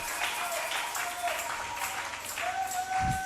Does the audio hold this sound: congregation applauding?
yes